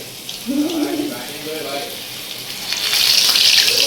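Bubbling oil sizzles and hisses, swelling louder toward the end as vada batter drops in, with a voice speaking briefly near the start.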